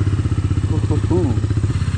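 A motorcycle is kick-started, and its engine thumps in a steady, rapid rhythm close by. A voice briefly cuts in over the engine.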